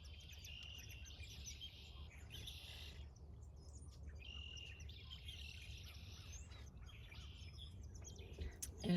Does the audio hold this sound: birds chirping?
yes